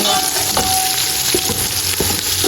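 Onions frying in a pan on a gas stove for a mutton pulao, a steady close hiss of sizzling oil broken by a few soft stirring scrapes, with no talk.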